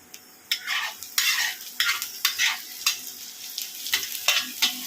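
Chopped onion stirred in hot oil in a pan alongside capsicum, beans and carrot for fried rice, a repeated scraping, sizzling rhythm of about ten close strokes with no talk.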